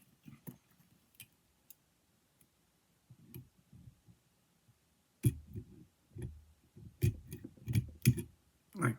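Sparse sharp clicks and snips, then a flurry of louder crunching as scissors cut 55-pound test wire cable close by, irregular and without talking.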